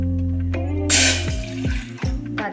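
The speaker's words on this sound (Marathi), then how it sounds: "पातेल्यामध्ये अर्धा ग्लास एवढं पाणी" Half a glass of water is poured into a pot on a gas stove, a sudden splashing rush followed by a brief gurgling trickle and a few drips, close and fairly loud.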